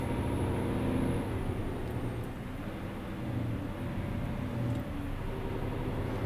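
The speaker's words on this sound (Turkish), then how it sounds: "de motor frenini dinleyelim." A Neoplan Starliner 2 bus engine brake in Euro Truck Simulator 2 rumbles steadily and deep, with a continuous low roar that holds without pause and no voices over it.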